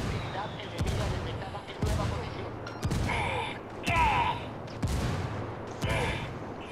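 Rebel mortar rounds land in Ghost Recon Wildlands as a string of heavy booms about once a second, each with a rumbling tail, while voices talk over them.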